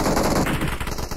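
Rapid automatic gunfire in an online multiplayer shooter game, a loud, close burst of evenly spaced shots lasting about a second.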